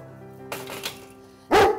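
A small rescued dog gives a few short barks, the last one loud and close, with a faint, softer yip before it and no voices.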